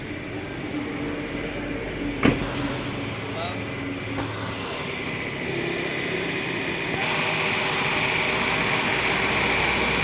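A 2002 Ford Escape with a 3.0-litre V6, automatic transmission and four-wheel drive runs with a steady, even mechanical drone throughout, broken by one brief sharp knock near the start.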